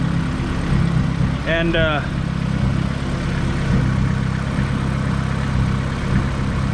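A car engine idles steadily after a Skunk2 radiator and Spal electric fan install, a constant close hum with a low rumble, while a brief voice speaks near the start.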